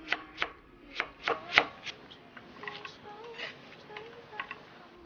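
A knife chops a radish into strips on a cutting board: a run of sharp, evenly spaced taps close by at first, then quicker, softer cuts with faint kitchen clatter.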